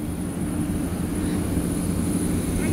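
A steady, loud engine drone of an airliner flying to Cape Verde fills the clip continuously, with a high whine on top and no clear speech.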